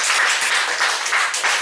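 Korean church congregation applauding in thanks to parents during a sermon, dense steady clapping from many hands filling the hall for a brief moment, fairly loud and close, with no talk over it.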